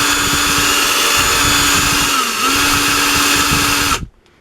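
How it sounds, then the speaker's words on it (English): A power drill whines loudly and steadily as a step bit bores through material, dipping briefly in pitch before cutting off abruptly. "I should step drill this"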